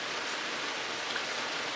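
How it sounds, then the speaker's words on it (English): Steady rain falling outdoors, a dense even hiss of drops on surfaces, continuous and moderately loud with no voices. "It's nasty out here. It's raining."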